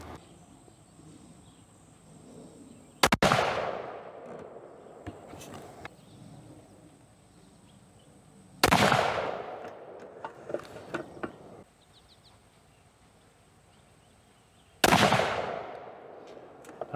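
Three sharp, loud rifle shots from a 264 Win Mag, spaced several seconds apart at an outdoor range, each cracking near and then ringing off, with faint handling noises between them.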